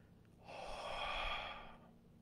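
A slow, steady exhalation during a relaxation exercise, one soft airy breath rising and fading over about a second and a half, close and quiet with nothing else around it.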